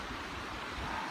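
A creek flows beside a shaded woodland glade campsite, its steady, close rushing wash filling the scene without pause and with no voices.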